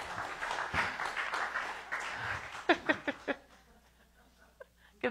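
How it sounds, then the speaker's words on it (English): A congregation at a church service claps along as music plays, then a few sharp, separate claps ring out before the room falls mostly quiet. "You can clap, come on."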